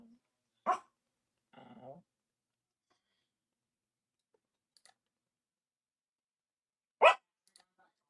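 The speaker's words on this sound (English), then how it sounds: "Come on, stop barking." Small dog giving two sharp, close barks several seconds apart in a quiet room, with a brief soft murmur in between.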